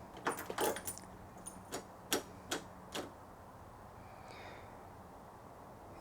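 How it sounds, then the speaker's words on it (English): A dog pushes through a pet door flap, giving a handful of quiet, sharp clacks and taps that fade out into near silence. "now she's going through the doggy door."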